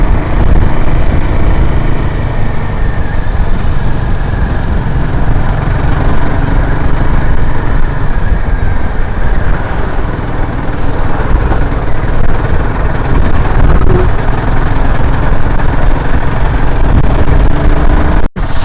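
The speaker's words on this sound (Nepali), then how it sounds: "यो बाटोमा धेरै कुदाउनु मजा आउँछ बाइक हो." A motorcycle carrying a bag on the back rides a dusty road near Singtam, producing a loud, continuous engine and road rumble with heavy wind buffeting and no let-up for the whole stretch.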